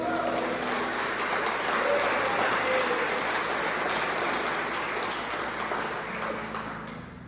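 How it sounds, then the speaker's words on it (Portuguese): Church congregation applauding during an evening service in Campinas: dense, steady clapping fills the whole stretch, with voices mixed in and a slight fade near the end. "Você pode aplaudir a Jesus?"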